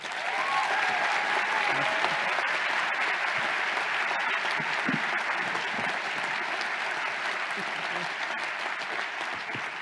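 Audience at a UConn Law commencement ceremony applauds steadily, dense even clapping from a large crowd filling the hall without a break.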